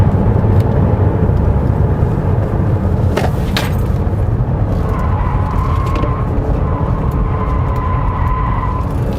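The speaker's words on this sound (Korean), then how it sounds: "그 앞쪽에서 부딪히는 바람 소리가 전반적으로 이렇게 고르게 나요" Wind roars steadily inside a 2021 Chevrolet Malibu 2.0 Turbo at high speed, a dense, even rush striking the front of the car, with a faint tonal whine drifting in partway through.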